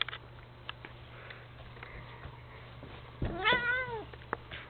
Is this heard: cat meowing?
yes